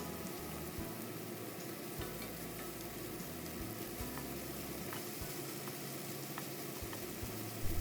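Carrots fry in a wok with a steady, close sizzle, and pulses of stirring and scraping go on throughout. No one speaks.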